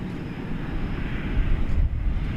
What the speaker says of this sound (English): 777-300 ER, which is also going to London Heathrow, which is now motoring our way.